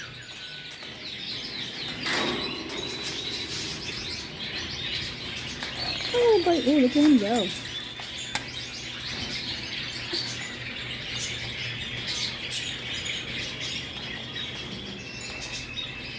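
Exotic birds chirp and squawk inside a large bird store, a chorus of tweets and calls with one louder warbling call up close, while a person talks over them.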